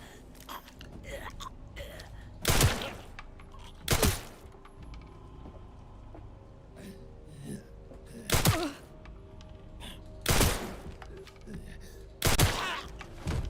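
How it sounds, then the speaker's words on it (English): Gunfire in the Resident Evil Requiem video game: five loud, sharp broadband shots spaced a second or two apart, standing out over a quieter in-game background. "It took 5 shots to kill him."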